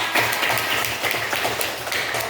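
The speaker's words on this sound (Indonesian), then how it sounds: "Beri tepuk tangan untuk kalian semua." A small class of students claps together at the close of a lesson, a modest, slightly uneven patter of hands in a room with a faint low hum underneath.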